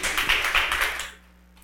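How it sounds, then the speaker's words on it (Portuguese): A short burst of clapping from a small group in a Portuguese-speaking gathering, a few quick hand claps that fade out after about a second into quiet room tone. "Ok, palmas para ela."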